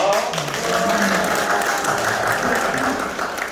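Applause at an opening ceremony for a company's Daegu–Gyeongbuk logistics center, a steady dense wash of clapping from a gathered crowd lasting throughout, with faint voices mixed underneath.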